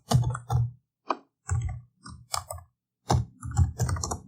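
Someone types on a computer keyboard close by, with short irregular clusters of keystrokes separated by brief pauses.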